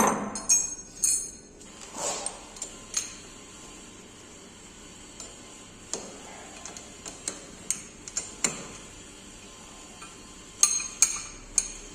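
Lathe chuck keys are lifted off a newly fitted lathe chuck, making scattered light metallic clinks and ticks, some sharp and close, spread irregularly across a quiet workshop with no talking.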